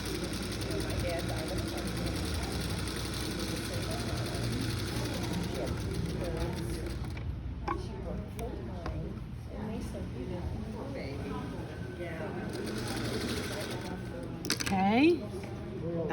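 A home sewing machine stitches quilt blocks together, a continuous mechanical whir running under close, casual conversation between two women, with a brief pause partway through.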